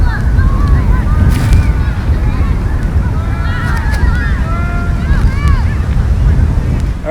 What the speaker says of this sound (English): the wind's blowing about 5 to 6 miles an hour